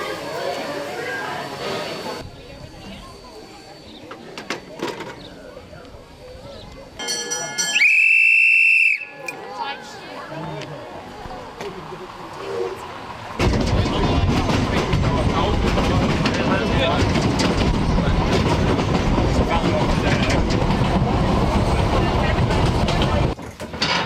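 On a heritage railway, a steam train's whistle shrieks for a couple of seconds, then a train rumbles and clatters past loudly for several seconds, with people talking before and around it.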